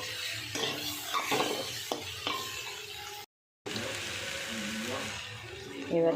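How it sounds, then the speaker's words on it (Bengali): A chana omelette with fried egg is stirred in a pan, giving a soft steady sizzle with scraping utensil strokes, broken by a brief gap, as a voice talks over the cooking. "দিয়ে আবার একটু নাড়াচাড়া করে নিচ্ছি।"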